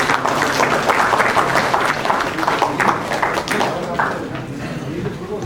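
Audience applause fills a seminar hall after a memento presentation at a panel discussion, a dense, steady wash of many hands clapping at even loudness for several seconds.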